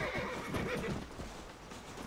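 A horse neighs loudly during a horse-taming scene in the video game Red Dead Redemption, a sustained whinny with hoof clatter underneath, close and without speech.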